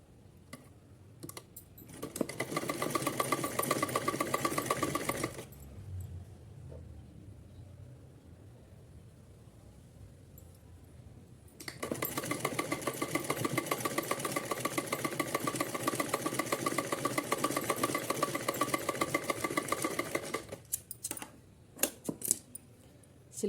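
Sewing machine stitching folded cotton fabric layers for a small Kanha ji outfit, two bursts of rapid close mechanical whirring separated by a quiet pause, alone without talk.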